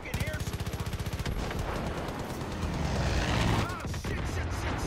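Far Cry 5 combat with rapid gunfire bursts followed by a grenade or dynamite blast, a loud rolling explosion with crackling debris and a second thump near the end.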